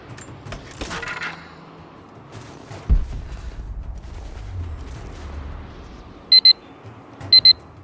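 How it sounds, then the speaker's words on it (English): Alarm going off at the end of an hour of playing Rise of the Tomb Raider: two short, sharp bursts of electronic beeping near the end, loud and close. They follow quieter game sounds that include a low rumble. "You heard the alarm go off"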